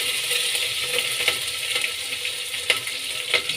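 Green chillies frying with mustard seeds in hot oil give a steady, close sizzle, broken by occasional sharper pops and crackles, with no voices.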